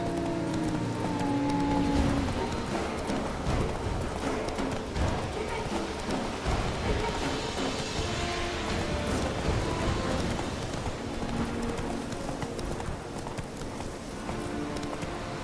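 Geralt's horse Roach galloping in The Witcher 3, a steady rapid clip-clop of hooves running continuously beneath a busy ambient backdrop.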